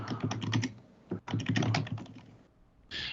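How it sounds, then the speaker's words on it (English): Rapid typing on a computer keyboard comes in two dense bursts of clacking keystrokes with a short pause between them, close and distinct, ending on a brief burst of noise. "Are you typing?"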